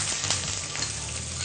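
Onions frying in oil with dried red chillies, urad dal and curry leaves in a home kitchen, giving a steady, dense sizzle that hisses evenly throughout the short moment with no voices.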